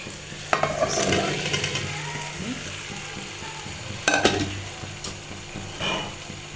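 Potatoes are stirred into a spiced masala in a pan, giving a steady sizzle broken by sharp scraping clatters of a spoon against the metal, with several louder stirring bursts and no talking.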